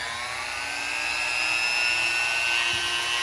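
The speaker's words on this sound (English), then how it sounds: "I'm gonna attempt to use this polisher right here, right, to take those sharp corners off." A power polisher smooths the sharp corners of a Ruger 57 pistol part, giving a steady, loud, high-pitched whine that holds continuously without pause.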